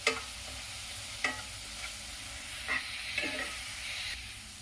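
Onion masala for paneer do pyaza sizzles on high flame as it is stir-fried, a continuous hiss broken by several sharp scraping strokes of the spoon against the pan.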